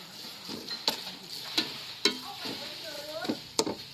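Coconut cream sizzling in a pan as ingredients are stirred in, with a soft background sizzle broken by sharp, irregular utensil clicks and scrapes against the pan, four or five clear hits.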